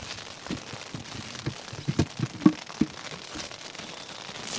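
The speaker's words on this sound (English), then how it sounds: "We have now moved from rain to hail." Hail falling on a tent, a scattered patter of sharp ticks and pops on the fabric with a few louder strikes standing out over a steady hiss, close by and with no talking.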